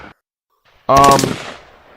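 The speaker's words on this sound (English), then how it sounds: "It sounds very much like gunfire in the background, Chuck." A burst of rapid gunfire-like cracks or fireworks erupts after a short pause, loud and close, with a dense rattling volley that quickly decays into a fading tail.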